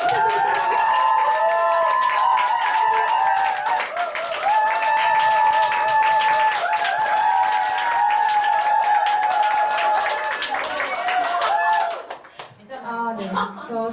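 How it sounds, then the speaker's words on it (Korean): Big applause and cheering from an audience at a company meeting and awards ceremony, welcoming a businesswoman to the stage: dense clapping with music playing underneath, sustained for about twelve seconds before dying away. "장미려 사장님 앞으로 모실 때 큰 박수 부탁드립니다"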